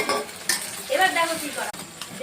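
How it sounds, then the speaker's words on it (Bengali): Egg frying on a griddle for an egg roll, a soft sizzle mixed with brief clinks and scrapes of a utensil against the pan over about two seconds, no voices. "ডিম ভাজা হচ্ছে"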